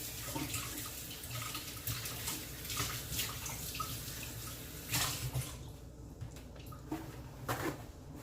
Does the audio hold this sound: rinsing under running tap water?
yes